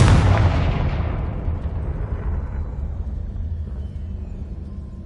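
The Confringo fire spell in Hogwarts Legacy explodes with a sharp, loud burst, then a rumbling tail fades away over several seconds.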